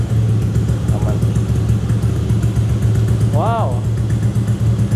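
Modified Honda Vario 150 scooter with an aftermarket exhaust, its engine holding a steady, fairly loud low rumble throughout, while a voice briefly exclaims over it near the middle.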